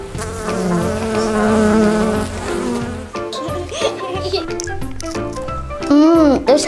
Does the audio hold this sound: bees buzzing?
yes